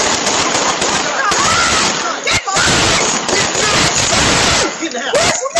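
A street shootout caught on a home doorbell camera: loud, dense, crackling bursts of gunfire fill nearly the whole stretch, with voices mixed in.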